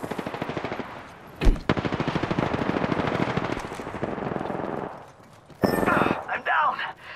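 Rapid automatic gunfire from Apex Legends rattles in long bursts of closely spaced shots, broken by a sharp single crack and a short pause before another loud volley, with a voice speaking briefly in between.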